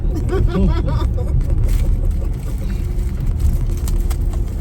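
Steady low engine rumble and road noise fill the cabin of a car on the move on a sunny day, loud and continuous with no talking.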